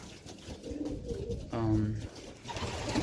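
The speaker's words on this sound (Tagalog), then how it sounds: "Ayun po mga kalapatids" Pigeons kept in a loft coo nearby in low, throaty, rolling calls, a couple of distinct coos over soft background noise, with someone speaking briefly in between.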